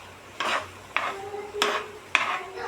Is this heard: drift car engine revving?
no